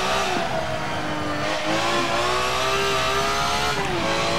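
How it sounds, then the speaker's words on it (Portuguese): Ferrari race car engine in Forza Motorsport 7, a loud continuous roar with shifting revs and brief tyre noise, heard alone without talk. "o ronco é louco aqui do motor Ferrari aqui"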